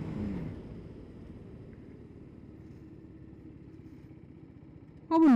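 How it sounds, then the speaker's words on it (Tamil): An Apache RR 310 motorcycle in urban mode slows from about 60 in a brake test, its engine a low steady rumble that fades slightly before a sudden loud burst at the end. "இப்போது அர்பன் மோடில் உங்களுக்கு ஒரு பிரேக் டெஸ்ட் பண்ணி காட்டுறேன்"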